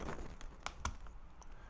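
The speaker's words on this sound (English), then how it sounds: "let's try taking off a keycap here." Keycap pulled from a Keychron R6 mechanical keyboard with brown switches: a few quiet plastic clicks and snaps, close and faint, with no talking.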